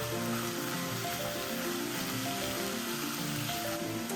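Frozen mini peas and fenugreek leaves stirred together in a pan for methi matar malai, with a steady close sizzle continuing without pause.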